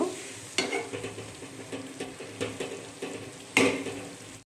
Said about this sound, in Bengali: এখন একটু নেড়ে চেড়ে দিচ্ছি।